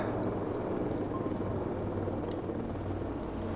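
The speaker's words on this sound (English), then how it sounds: "It's the drone coming in." A drone flying in, in the video game Voices of the Void, a steady low whirring, humming drone that holds at a constant moderate level with no pauses.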